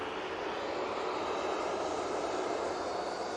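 A Ryanair airliner departing Manchester Airport for Palma de Mallorca gives off an even, sustained jet roar, moderately loud and unbroken throughout, with no talking.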